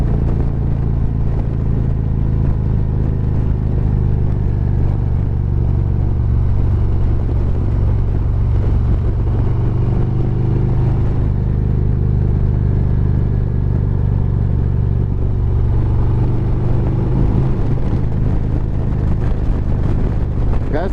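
A new Harley-Davidson motorcycle cruising the Cherohala Skyway, its engine rumbling low and loud without a break, mixed with constant wind buffeting and road noise picked up close to the rider.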